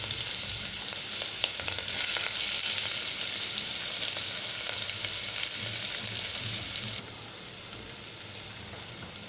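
Onion frying in a pan with asafoetida for Malvani chicken curry, a dense continuous sizzle with low stirring knocks, loud and close, easing slightly toward the end, with no voices.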